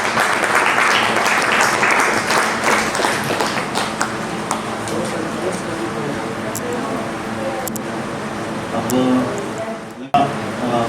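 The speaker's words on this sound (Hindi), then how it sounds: "सबसे एक रिक्वेस्ट है, सुजान मैम के लिए एक बार जोर से ताली।" A dense, loud wash of audience applause fills an event hall for a speaker, with scattered brighter claps and some voices mixed in before it cuts off abruptly near the end.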